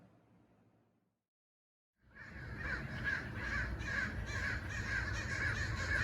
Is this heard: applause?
no